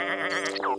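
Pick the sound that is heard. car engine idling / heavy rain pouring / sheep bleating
sheep bleating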